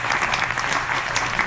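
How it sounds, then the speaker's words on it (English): Audience applause after a talk on women succeeding in the workplace, a dense, steady wash of many hands clapping at once, loud and close throughout. "Another warm round of applause,"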